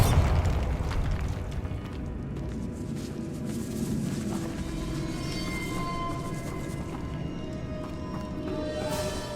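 A Bombarda blast spell from Hogwarts Legacy fired in a decaying catacomb, a heavy boom at the start that fades into a low rumbling tail with scattered debris and clatter.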